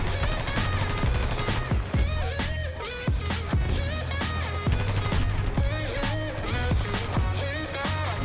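Rapid gunfire from Battlefield 2042, dense bursts of automatic shots cracking over and over for the whole stretch, loud and close with a steady low background rumble of the game's battlefield.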